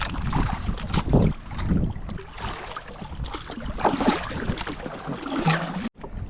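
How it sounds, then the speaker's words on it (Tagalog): Strong wind at sea from a small boat: gusty, buffeting roars of wind against the microphone rise and fall irregularly, with splashing water and hull noise beneath and a sudden brief cutout near the end. "Kalakas ng hangin."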